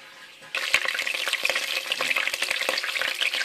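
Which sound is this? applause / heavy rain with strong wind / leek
leek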